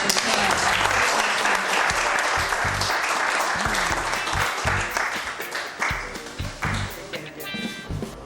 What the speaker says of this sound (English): let's have a big round of applause for Chaz.